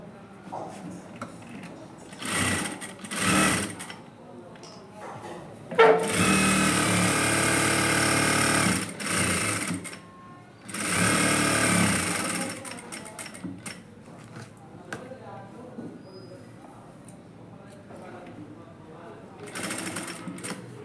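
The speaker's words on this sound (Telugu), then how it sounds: "మొదట వచ్చి వెనక భాగం వచ్చి ఒక చిన్న కుట్టు వేసుకోవాలండి" Sewing machine stitching the back piece of a blouse, running in several loud close bursts of rapid whirring between pauses, with someone talking in the gaps and over it.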